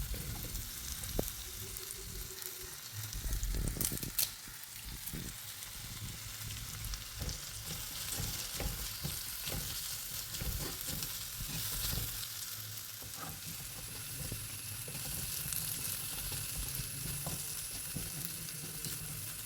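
Shallots and curry leaves sauté in a pan for a squid and potato roast, making a soft, steady sizzle broken by occasional clinks and scrapes of stirring, fairly quiet and close.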